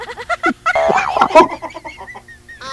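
Ducks calling in a quick series of loud, close honking quacks, several overlapping squawks in a burst before a thin high note at the end.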